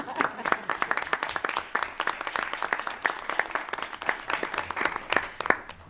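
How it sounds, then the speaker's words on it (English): A room of attendees at a school board meeting claps together for several seconds, a dense, steady patter of many hands at moderate volume. "Allen wanted to clap, so we will clap"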